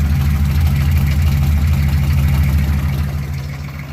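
A cold 1984 Chevy 6.2 diesel with hood stacks idles loud and close, a steady low rumbling clatter that tapers off slightly toward the end, without any talking.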